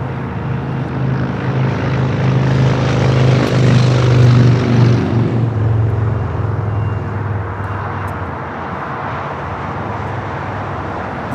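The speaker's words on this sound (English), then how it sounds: "This is Japan Airlines Flight 61 taking off to Tokyo Narita on the" A Japan Airlines Boeing 787-9 Dreamliner takes off from LAX, its jet engines building to a loud, steady roar that peaks and then slowly fades as it climbs away, with no voices over it.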